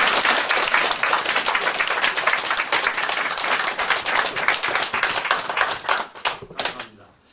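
Applause from a lecture-hall audience at a talk on face reading and qimen dunjia, dense rapid clapping sustained for about six seconds before tapering off and fading out.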